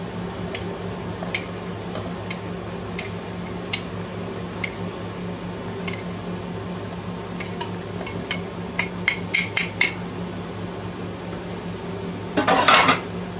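Spoon clinking and scraping against a pot while stirring a brown sugar carrot glaze, light irregular taps over a low steady hum, with a brief cluster of louder scrapes near the end.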